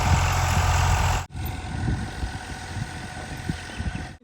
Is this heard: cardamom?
no